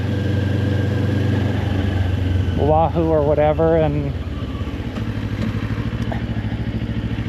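A rented motorcycle cruising around Oahu, its engine drone running steadily close by throughout, beneath someone talking over it.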